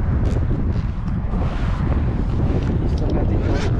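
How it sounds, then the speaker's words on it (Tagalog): Strong wind at a lake buffets the microphone with a continuous loud, rumbling roar that persists throughout. "medyo malakas din ang hangin pero hindi masyado"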